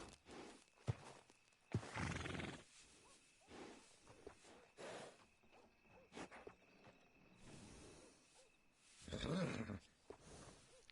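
A horse in Red Dead Redemption 2 snorts and whinnies in several separate close bursts, with soft hoof and movement sounds in quiet pauses between them, and no talking.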